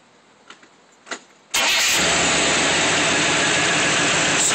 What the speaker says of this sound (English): Fire up.